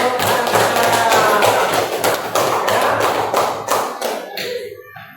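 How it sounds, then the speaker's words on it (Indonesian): Pupils in a classroom lesson on zakat, infaq and charity clap their hands in a loud, rapid patter that carries on for several seconds before stopping abruptly, with a brief spoken word near the end. "Tepuk tangan untuk"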